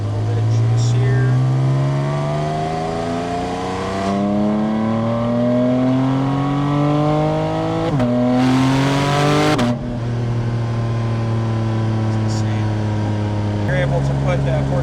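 A 2024 Porsche GT4 RS engine climbs loudly through the revs, drops sharply on each downshift from fourth to third to second, then pulls hard again. The engine is close and continuous with a brief rasping burst mid-run and no talk heard.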